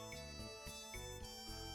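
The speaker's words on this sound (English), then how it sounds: "That's my phone." A mobile phone ringtone plays loudly and alone, a bright repeating electronic melody of tonal notes that pulse in a steady rhythm through the short burst, with no talking over it.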